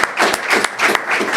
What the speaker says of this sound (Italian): Bell'applauso.